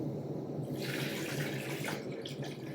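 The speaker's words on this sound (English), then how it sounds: "Okay, I've added 12 cups of water." Water pouring steadily into a stock pot holding chicken, a bay leaf and salt, giving a continuous close splashing rush that swells in the middle and tapers off.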